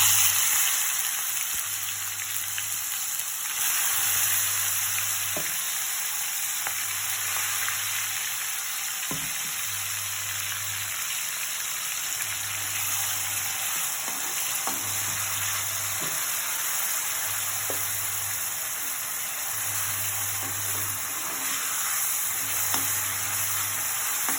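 Ground masala paste for kara kuzhambu sautéing on a low flame after mustard seeds, fenugreek and cumin, a constant soft sizzle with a faint regular low thumping underneath and a few sharp spoon clicks, no talk.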